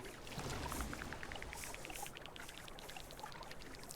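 Water being placed on the map in Terra Nil, a soft pouring and trickling wash with rapid bubbly droplet ticks, quiet and continuous.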